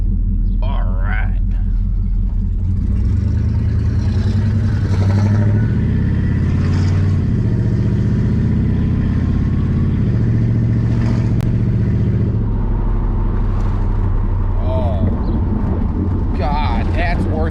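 An LS-swapped Firebird with a new exhaust rumbles deep and steady while driving around the block, a loud close V8 drone that swells with throttle, with people talking over it inside the car.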